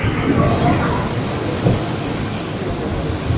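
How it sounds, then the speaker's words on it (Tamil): Heavy rain pours down at Peradeniya University, a loud, dense, continuous roar of water close to the microphone with a low rumble underneath and no break. "இந்த இடத்துல மழையை பாருங்க பயங்கரமாக வந்துட்டு"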